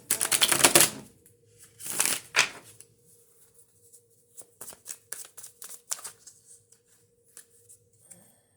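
Tarot cards are shuffled in two loud riffling bursts near the start, followed by a run of lighter, separate taps and snaps as cards are handled and flipped over.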